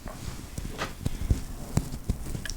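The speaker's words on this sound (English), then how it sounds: "This is the sound of cookies crumbling." Crisp cookies crumbling up close, a handful of sharp, dry cracks and crunches scattered irregularly over a couple of seconds, with no talking.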